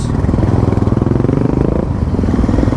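Royal Enfield Bullet motorcycles riding out together on a muddy beach, a loud, close, thumping single-cylinder engine beat pulsing rapidly and steadily throughout.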